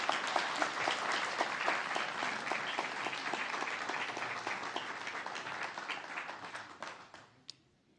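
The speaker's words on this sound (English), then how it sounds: "So let's give them a round of applause." Steady audience applause at a guide dog graduation ceremony for a Labrador retriever and its handler, moderately distant and even, with scattered individual claps standing out before it fades away near the end.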